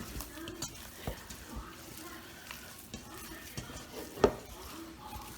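Ground burger meat worked by hand with salt, seasonings and onion soup mix, giving soft, wet squishing and stirring sounds in a kitchen, with a few light clicks and one sharper knock, fairly quiet and steady throughout.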